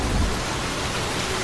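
Heavy rain pours down in a dense, even hiss with a low rumble beneath, steady throughout the short stretch and without voices.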